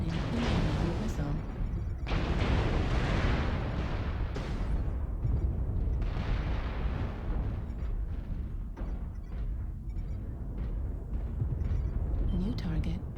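Missile explosions and impacts from the MechWarrior Online video game, a Mad Dog mech under fire, form a loud, continuous stretch of booming bursts and rumbling blasts that hardly let up.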